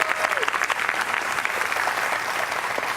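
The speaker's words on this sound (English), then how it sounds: "could you give our panel and yourselves a round of applause?" Steady applause from a crowd, dense clapping that carries on throughout.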